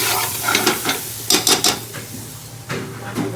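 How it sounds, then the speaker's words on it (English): Tomatoes are stirred into a sizzling Bangladeshi chicken shatkora curry in a pan, loud close spoon scrapes and clatter over a steady frying hiss. "And add the tomatoes. Mix everything up."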